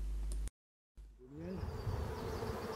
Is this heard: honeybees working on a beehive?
yes